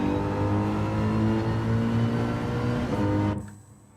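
Race car engine in Gran Turismo 7 drones loud and steady with strong harmonic revving for over three seconds, then cuts off abruptly, leaving near silence.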